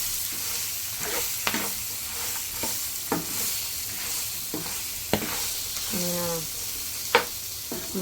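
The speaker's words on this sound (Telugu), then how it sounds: "చింతపండు కూడా వేసుకొని కొంచెం వేయించుకోవాలి." Tamarind frying in a pan with a low steady sizzle, interrupted by occasional sharp scrapes and taps of a spoon stirring, close and fairly quiet, with a brief voice heard faintly.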